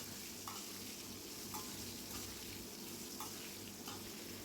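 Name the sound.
potatoes being stir-fried in oil in a wok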